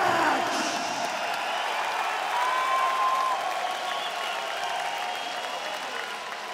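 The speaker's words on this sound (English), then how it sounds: "Crowd going crazy for this one here, Brian" Large arena crowd at an OKTAGON MMA fight night cheering and applauding steadily throughout, a dense, loud roar of clapping and shouts with a faint whistle rising briefly from the mass.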